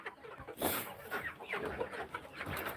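Chickens, some larger birds among younger ones, cluck in short irregular bursts at close range, with busy scratching and rustling noise filling the background throughout.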